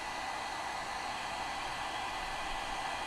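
A hair dryer blows steadily and loudly at close range, drying paint on a glass block, an unbroken whooshing hiss with no pauses or voices.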